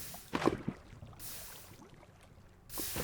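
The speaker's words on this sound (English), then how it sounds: "Lava bucket ho!" Lava bucket emptied in the Minecraft video game, a short sloshing, bubbling pour heard close and alone, with a hollow whooshing wash near the end.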